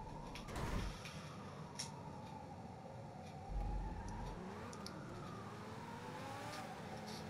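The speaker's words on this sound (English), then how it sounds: "I don't know if you can hear those sirens, but they've been going for the last half an hour." Distant emergency sirens wail in slow rising and falling sweeps, faint beneath a steady rumble of car engine and road noise, with a couple of low thumps along the way.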